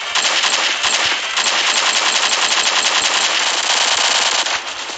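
Rapid, continuous automatic gunfire from a weapon in the video game Pixel Strike 3D, loud and close, a dense stream of shots lasting several seconds with a brief break near the end.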